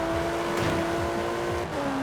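A Ford Escort's engine drones steadily during a race in Forza Horizon 4, a sustained buzzing tone that dips briefly as the revs shift near the end, with no talking.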